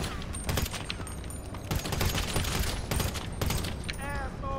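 M416 rifle gunfire in the video game GTA 5, a loud, continuous rattle of rapid automatic shots filling the whole stretch, with a brief electronic whine near the end.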